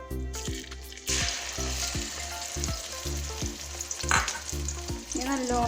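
Crushed onion and chili hitting hot coconut oil in a pan, a loud, close sizzle with steady stirring and scraping, heard alongside background music.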